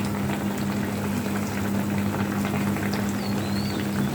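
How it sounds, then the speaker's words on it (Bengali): A bitter gourd, potato and catfish curry boils in a pot, giving a continuous, even bubbling hiss with a steady low hum beneath it and no voices. "আমার তরকারিতে বলক চলে এসেছে"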